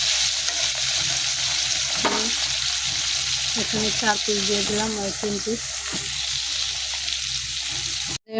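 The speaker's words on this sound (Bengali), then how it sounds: "মাছ ভাজা শেষ" Pieces of dhela fish frying in a pan give a continuous close sizzle with occasional stirring scrapes, while someone talks over it.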